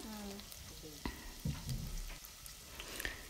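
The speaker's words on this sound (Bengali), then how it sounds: "রসুনটা আমি একটু লালটি বা বাদামি হওয়া পর্যন্ত এটারে ফ্রাই করমু" Garlic fries in oil toward browning, a soft, fairly quiet sizzle with scattered knocks and clinks of stirring; a brief voice is heard at the very start.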